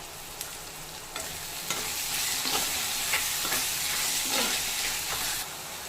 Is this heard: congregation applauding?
no